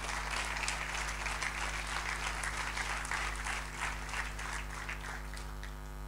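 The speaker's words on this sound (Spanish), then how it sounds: "Denle un fuerte aplauso" A church congregation gives steady, full applause during a sermon, with many hands clapping at once over a constant low electrical hum. The clapping stays at an even level throughout and fades slightly near the end.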